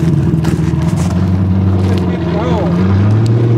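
A Chevy S10 truck with a 406 small-block V8 rumbles loudly and steadily close by, a deep throbbing engine drone throughout, with people talking over it.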